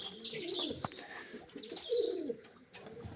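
Baku racing pigeons coo softly and close by in repeated low throaty phrases, with a few high chirps from other birds mixed in.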